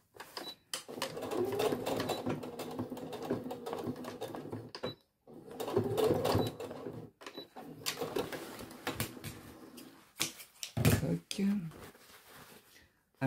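Sewing machine stitching a weekend bag, its thread skipping and the work not advancing, running in a steady buzzing whir broken by brief pauses, with a voice speaking over it.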